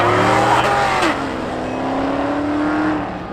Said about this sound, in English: He's got that white Camaro on the high line here right now.